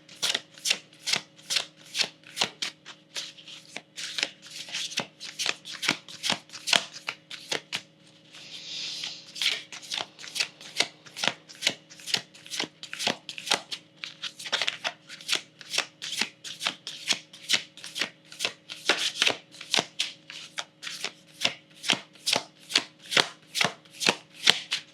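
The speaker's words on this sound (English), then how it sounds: "I want to pick a card from the Moonology Messages Oracle" Moonology Messages Oracle cards being shuffled by hand, a long run of crisp, rapid riffling flicks repeating in a steady rhythm, close and clear, with no speech.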